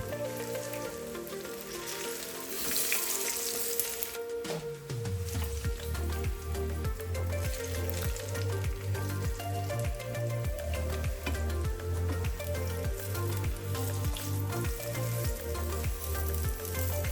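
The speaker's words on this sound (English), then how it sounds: "the bananas are fried in oil." Steady sizzling of stuffed plantains frying in hot oil, loud and constant, with tonal music playing over it throughout.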